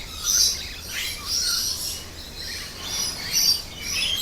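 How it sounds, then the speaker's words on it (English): Birds sing outdoors during a morning yoga session, with bright chirps and trills coming in repeated bursts at moderate distance over quiet background hiss. "We have a fair few birds joining us today."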